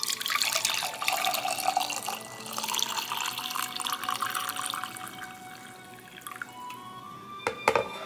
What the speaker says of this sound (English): you just put it in your mug and add your hot water